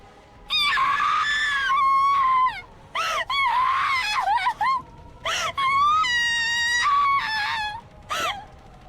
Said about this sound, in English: Jessica filled her ears with the sounds of her own screaming